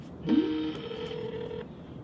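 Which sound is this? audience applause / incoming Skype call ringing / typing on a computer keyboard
incoming Skype call ringing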